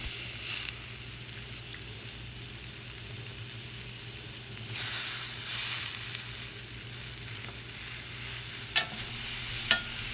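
Brinjal and potato pieces fry in a pan with a steady, close sizzle and hiss, while occasional scrapes and clinks of stirring rise briefly above the frying.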